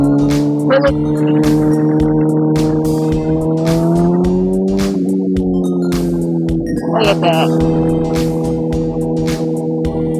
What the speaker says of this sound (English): This bike sounds so beautiful.